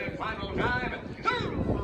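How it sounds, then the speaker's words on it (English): Wind buffets the microphone in a low, steady rumble while voices talk and call out over it. "It's a little windy."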